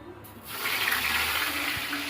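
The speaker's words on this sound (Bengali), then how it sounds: "দাঁড়াও আমি পটলগুলো এক এক করে ছেড়ে দিই।" Pieces of pointed gourd slipped into hot oil set off a steady, close sizzling hiss that swells after a brief quiet start and holds through to the end.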